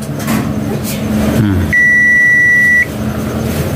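A single steady electronic beep from a continuity tester checking a relay sounds for about a second over a low background hum and faint room noise.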